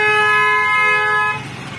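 Car horn blaring in a traffic jam, one loud sustained honk lasting over a second before cutting off, leaving low street and traffic rumble.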